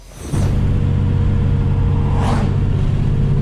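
A car engine drones steadily while driving, a loud low rumble with a faint rise in revs partway through and no talking.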